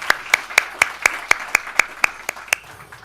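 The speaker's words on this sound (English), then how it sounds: "please join me in this round of applause for our speakers." Applause for speakers at the European Industry Forum: a single pair of hands claps close by in an even rhythm of about four claps per second, a dozen crisp claps over a faint room background.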